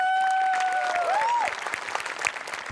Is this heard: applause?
yes